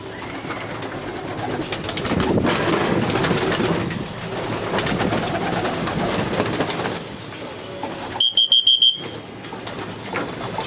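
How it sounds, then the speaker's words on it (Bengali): Pigeons, mostly males, coo softly at feeding time amid a steady rustling background, followed by a short series of sharp electronic beeps near the end. "তো কবুতরকে এখন খাবার টাইম"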